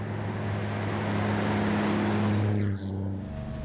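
A powerful race car engine hums steadily at a low, even pitch for a few seconds, with a brief shift in tone near the end.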